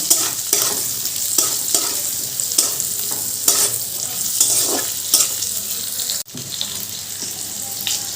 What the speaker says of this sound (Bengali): এবার আলুগুলো ভালো করে ভাজবো